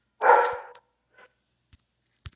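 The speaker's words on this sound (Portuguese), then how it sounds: "O cachorro tá me sacaneando," A single loud bark from a nearby dog rings out, followed by faint clicks and taps from a mobile battle-royale shooter session.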